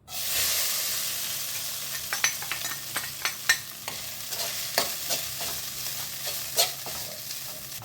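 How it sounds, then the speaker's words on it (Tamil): Soaked flattened rice (aval) fries in a pan with a steady sizzle, while a spoon scrapes and taps against the pan in irregular stirring clicks. "இதை போட்டு நல்லா ஃப்ரை பண்ணிக்கலாம்."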